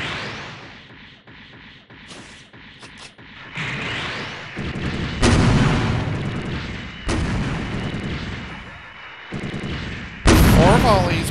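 Justice Gundam firing weapon volleys in the video game SDGO, heavy booming bursts in several separate waves with game noise between them and some voice sounds.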